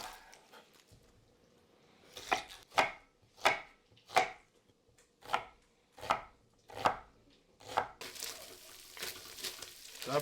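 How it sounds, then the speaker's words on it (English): A knife chops a small onion on a cutting board for chili, about nine crisp, evenly spaced strikes standing out clearly against a quiet background, followed by a brief rustling scrape. "I just chopped up a small onion"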